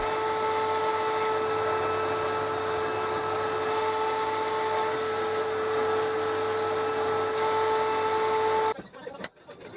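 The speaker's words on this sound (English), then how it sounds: "I gave the mallet head a good sanding down," A power sander hums continuously up close on a wooden mallet head made from pallet wood, with a steady tonal whine, then cuts off near the end with a few clattering handling noises.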